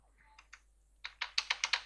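A few isolated keystrokes, then a quick run of crisp, close computer keyboard typing as lines of text are entered, with no talking.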